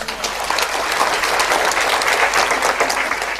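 Seminar audience breaking into steady applause, dense clapping from many hands sustained at even loudness throughout, with no speech over it.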